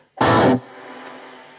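A short distorted guitar chord blasts out of a Roland Cube 10GX practice amp, then its reverb tail lingers and slowly fades, washy and sustained, with no voices.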